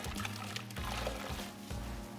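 Water runs steadily from a tap during handwashing before food preparation, a continuous close splashing wash with faint background sounds.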